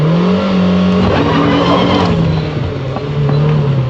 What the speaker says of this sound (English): that's with a handbrake turn